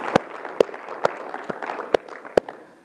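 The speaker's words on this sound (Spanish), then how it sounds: "Dele un aplauso fuerte al Señor" A congregation at an evening church service claps together in a slow, steady rhythm. About six crisp claps land at even intervals over a low background murmur, with no speech.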